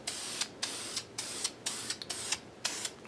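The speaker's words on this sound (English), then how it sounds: "I do what's called a ghost coat first, where you just lightly mist it." A rattle-can of spray paint lightly mists a ghost coat onto a Z28 air cleaner in about six short, close hissing bursts separated by brief pauses, with no talking.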